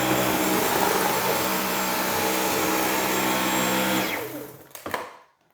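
Dyson V15 Detect cordless stick vacuum in eco mode sucking up spilled laundry detergent powder, a loud steady motor whine and airflow roar close up that cuts off and spins down near the end, with no voices.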